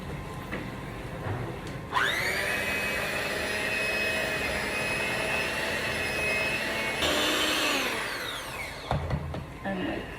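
An electric mixer whirs loudly and steadily through sweet potato pie filling for about five seconds, then its pitch rises for a moment before it switches off, leaving quieter handling noises.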